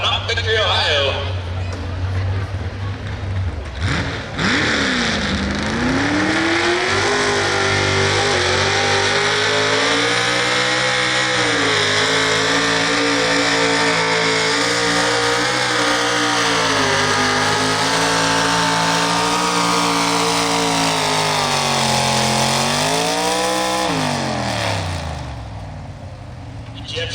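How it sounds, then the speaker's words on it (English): A V8 pulling tractor at a county fair truck and tractor pull revs loud and sustained for about twenty seconds, pitch climbing and dipping through the pull, with an announcer talking over the engine. "All right, that V8 is ready to roll. Listen to it go."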